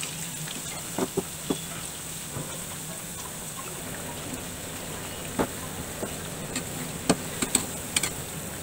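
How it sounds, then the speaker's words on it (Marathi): Coriander wadi slices frying in hot oil, a steady soft sizzle with scattered crackles and small pops throughout, fairly quiet and close with no talking. "वड्या आपण सोनेरी रंगावरती फ्राय करून घेऊयात"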